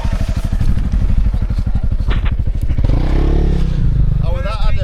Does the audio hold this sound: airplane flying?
no